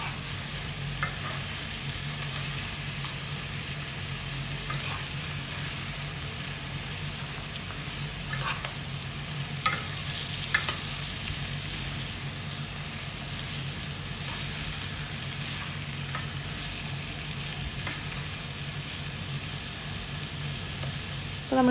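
Pork roast cooks in a pan in Angamaly style while being stirred and mixed, giving a low constant sizzle with scattered scraping and clinking from a utensil, moderately faint, and no talking.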